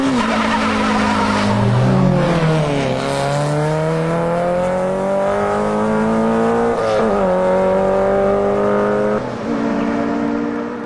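Rally car and a second car launching hard from a standing start in a drag race, engines revving up through rising gears with tires skidding and squealing, loud and close throughout with no talk.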